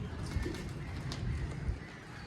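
Pigeons coo in low, soft murmurs over a steady background hum, with the cooing swelling slightly at a few points across the short stretch.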